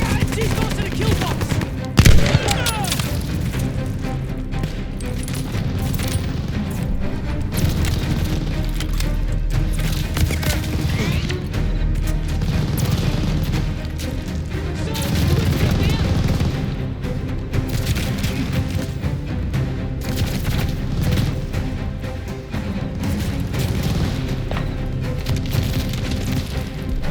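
Machine gun fire from a tower in Call of Duty Vanguard keeps up a dense, loud, relentless clatter of rapid shots and booms for the whole stretch, with a sharp louder blast early on.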